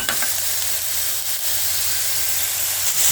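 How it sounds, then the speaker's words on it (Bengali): Vegetables lightly frying in a pan at the start of a chicken soup, a loud continuous steamy hiss and sizzle with faint stirring, no talking. "ভালো করে সবজিগুলোকে হালকা করে ভেজে নেব, যাতে কাঁচা গন্ধটা না থাকে সবজির মধ্যে"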